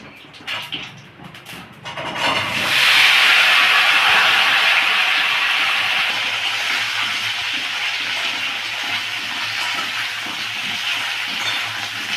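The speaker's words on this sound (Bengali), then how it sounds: "সবজিগুলো আমি একসঙ্গেই ভেজে নেবো" Steady loud sizzling hiss of vegetables frying in hot oil, starting after a couple of seconds of quieter clatter and continuing without pause.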